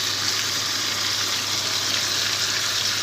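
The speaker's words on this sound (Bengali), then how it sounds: "এই মশলাটা দিয়ে কষাবো।" Chicken chaap sautéing with a ground paste of fried onion, cashew, melon seeds and poppy seeds, giving a steady, close, loud sizzle and frying hiss that runs unbroken without any talk.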